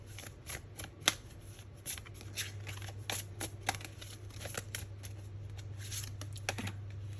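A deck of angel oracle cards is shuffled by hand, giving soft, irregular riffling clicks and flicks over a low steady hum, quiet and close, with no talking.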